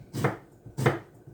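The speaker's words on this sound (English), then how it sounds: "I'm gonna slice the eggplants thin-ish" Two soft, evenly spaced knife strokes through eggplant as it is sliced thin, close and quiet, each cut a short dull thud against the board.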